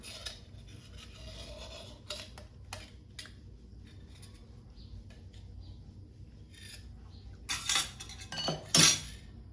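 A metal spoon scrapes and clinks against a container while digging out firm, solid ghee, giving scattered small taps and scrapes over a quiet room, ending with a couple of sharper, louder clatters.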